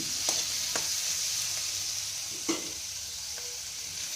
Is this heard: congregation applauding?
no